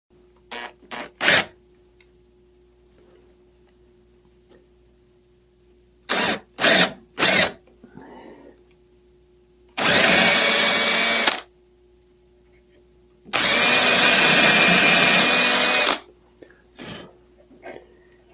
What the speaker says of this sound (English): I'm just going to drill through by eye